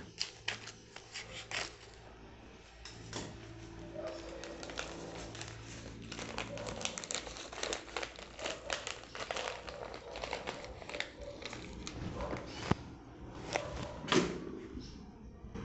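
Scissors cut through a plastic nursery bag to free a potted verbena for repotting, with close crinkling, rustling and crumpling of thin plastic in irregular bursts, plus occasional soft thumps.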